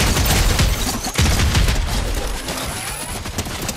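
Loud, dense bursts of explosions and gunfire fill a chaotic Red vs Blue match in an online shooter game, booming continuously with no pauses and no talking.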